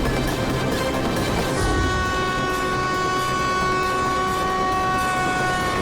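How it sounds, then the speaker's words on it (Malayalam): A train comes head-on along the same track in an animated cartoon, its horn blaring in long sustained tones over a steady rumbling roar of wheels and carriages, loud throughout. "ഓപ്പോസിറ്റ് വരുന്ന ട്രെയിൻ ഇതേ ട്രാക്കിലൂടെ വരുന്നത്."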